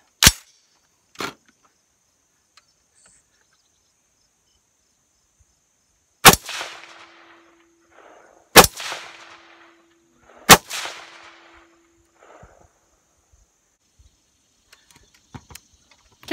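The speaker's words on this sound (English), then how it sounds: "I'll grab another mag and put another 3 shots after adjustments" Rifle fired while sighting in a Vortex Strike Eagle 1-6 scope outdoors: a few loud, widely spaced gunshots, each sharp crack followed by a ringing steel-target clang and short echo, with quiet gaps between.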